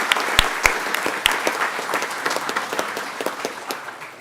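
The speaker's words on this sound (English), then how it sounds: "let's give a round of applause" An audience at a Lake County Commission meeting gives a round of applause, sharp individual claps standing out at first before blending into a steady ripple that gradually thins and fades toward the end.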